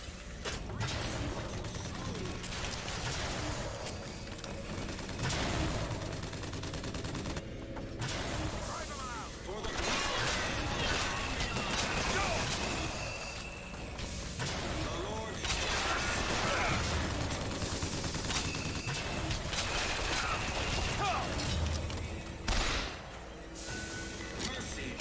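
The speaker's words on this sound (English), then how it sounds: "Who is shooting us right now?" Gunfire in BioShock Infinite forms a dense, continuous clatter of shots and mechanical rattling, with voices talking over the fighting.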